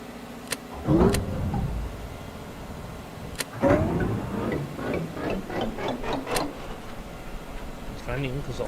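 A simulated engine runs in a helicopter-building video game with a low, steady hum. Clicks and short rising tones sound over it, and a voice talks through parts of it.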